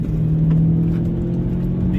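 An Audi S4 fitted with new sway bars cruises along back roads, a steady droning engine hum heard from inside the cabin with a low tonal whine, continuous and fairly loud.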